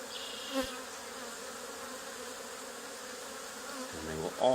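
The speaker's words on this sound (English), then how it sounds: "The march of the bees." A honey bee swarm marching into a hive box at an old barn, a steady close buzzing drone of many bees throughout, with a few brief thumps and knocks near the start and end.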